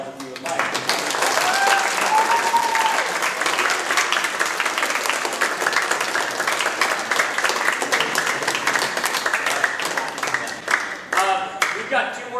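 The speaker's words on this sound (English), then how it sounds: "you can give your audience a round of applause if you would like" A large audience at a middle school sixth grade choir concert claps and applauds loudly and continuously, with a few faint cheers and tones mixed in near the start.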